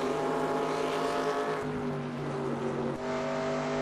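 Stock car engine at racing speed around Rockingham in NASCAR Racing 2002, a loud, steady high-pitched whine with layered harmonic tones that dip and shift as the revs change, continuous and close.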